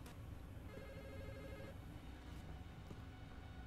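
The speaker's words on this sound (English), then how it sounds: "Ringing phone." A telephone rings in a quiet room, a thin repeating electronic ring that stays faint and steady across the whole stretch, with no voices over it.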